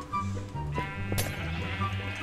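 A Minecraft sheep bleats several times in short wavering calls, fairly close and moderately loud over soft game ambience, with no talk.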